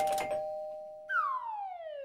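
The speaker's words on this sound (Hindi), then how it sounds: "डोरबेल बज रही है।" A doorbell rings indoors at night: a steady electronic chime note followed by a second, higher falling tone, loud and close with no voices over it.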